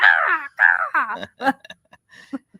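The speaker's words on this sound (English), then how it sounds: "The crows are letting us hear it." Several loud, harsh crow caws close by, in quick bursts, then fainter scattered calls trailing off.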